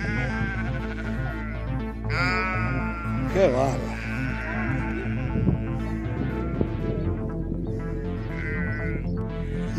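Sheep bleat repeatedly on a farm where a local producer feeds his flock, several wavering cries near and far over a steady low hum, while someone talks throughout.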